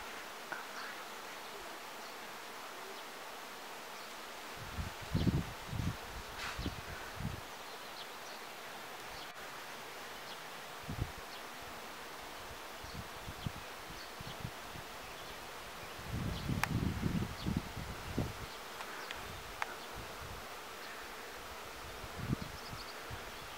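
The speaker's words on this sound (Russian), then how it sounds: "Смотрите, показываю вам рой" A swarm of bees at a summer village apiary makes a faint, steady, continuous hum, broken now and then by brief nearby rustling and bumping.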